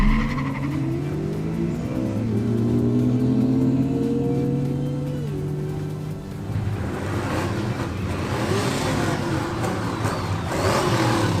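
A BMW M3 and a Nissan 300 launch side by side on a drag strip, engines revving hard through rising gear changes, then receding into a rumbling roar with some tire noise, loud and unbroken.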